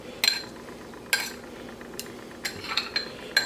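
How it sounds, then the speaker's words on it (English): Boiled pierogis are tossed with butter in a pot, giving a few sharp metallic clinks and scrapes at irregular intervals over a soft background sizzle. "And give them a bit of a toss with the butter."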